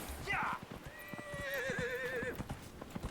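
A horse whinnies in Dragon Age: Inquisition, a long wavering neigh after a short snort, with clip-clop hoofbeats tapping steadily underneath, close and fairly loud.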